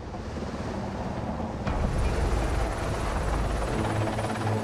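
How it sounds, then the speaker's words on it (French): A five-tonne Super Puma helicopter flies near a zoo, its steady rotor and turbine drone growing slightly louder and closer partway through, with no talking. "Un Super Puma de 5 tonnes, l'un des modèles d'hélicoptères les plus puissants jamais conçus."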